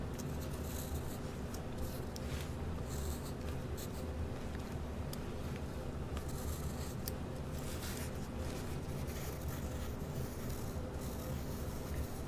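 Pencil tracing shapes onto paper for St Patrick's Day crafts, a close, steady scratchy rubbing of graphite over the sheet, continuous for the whole stretch with small shifts in stroke, no talking.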